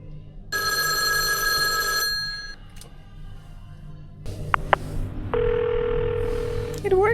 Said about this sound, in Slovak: V izbách a na chodbách sú retro rotačné telefóny, ktoré naozaj fungujú.